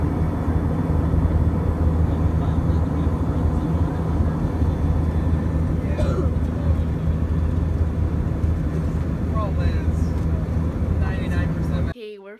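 A steady, loud roar of a passenger airplane engine heard from inside the aircraft on a late-night flight home. The roar holds constant for about twelve seconds, then cuts off abruptly.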